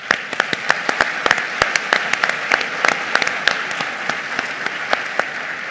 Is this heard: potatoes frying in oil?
no